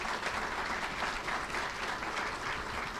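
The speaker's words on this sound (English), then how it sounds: "You can give yourself a round of applause for having accomplished this." A crowd at an AAPAC anniversary celebration claps in a steady, dense burst of applause, continuous and fairly full throughout with no voices standing out.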